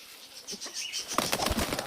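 Pigeons flapping their wings in flight overhead, a flock of about ten to fifteen white birds with red tails, giving a quick fluttering burst that grows louder in the second half, with no talking.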